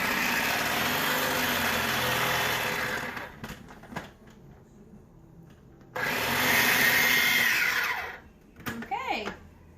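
An electric food chopper whirs loudly as it purees roasted red pepper, running steadily for about three seconds, stopping, then buzzing again in a second burst, with brief clatter and voices between pulses.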